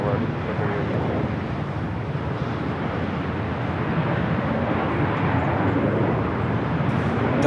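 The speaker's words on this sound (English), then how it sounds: "Delta Airlines Flight 290 and A350-900 heading to Paris. Should be a north side takeoff." Delta Airlines Airbus A350-900 jet at LAX, bound for Paris and departing from the north side, produces a steady broadband roar that swells slightly and holds at a constant level across the whole stretch, with no voices.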